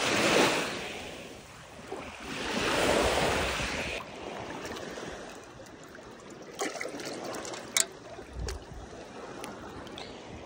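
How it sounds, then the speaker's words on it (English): Lake Michigan waves washing against the shore while water is fetched, a steady broadband surf swelling for the first few seconds, then settling into a softer wash with small close splashes and trickles, no talking. "let's go down to Lake Michigan, grab some water."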